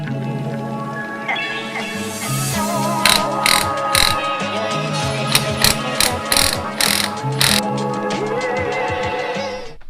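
A Borla exhaust is clamped onto a Chevrolet Silverado with a hand tool, producing a quick run of sharp ratcheting clicks and metallic clanks that crowd together in the second half, close up over a steady mechanical hum, with no talking.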